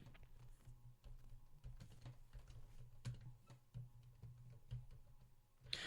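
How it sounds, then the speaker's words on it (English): Quiet, close typing on a computer keyboard: a fast, uneven run of soft key clicks and thumps with brief pauses. "I'm typing it in, actually"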